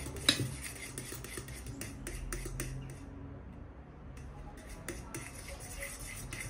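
A utensil mixes khachapuri batter thoroughly in a bowl, giving repeated clinks and scrapes against the sides, busy at first, pausing briefly, then resuming at a moderate level.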